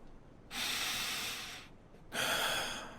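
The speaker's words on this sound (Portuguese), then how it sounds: "A respiração diminuiu." A dying woman breathes slowly, with two long, airy breaths, one inhale and one exhale, close and clear with quiet pauses between them.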